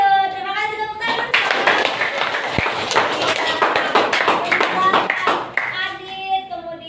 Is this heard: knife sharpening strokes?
no